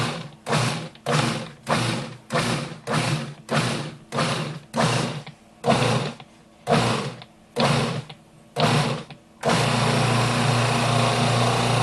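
Almonds for marzipan are pulsed in a blender in about a dozen short, loud whirring bursts with brief gaps between them, then run as one continuous grinding roar.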